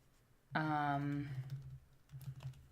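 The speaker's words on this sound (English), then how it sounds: "Now you get to hear the lovely sounds of my typing." A short burst of keyboard typing, quick irregular clicks under a sustained low hum, with a brief pause before a few more taps.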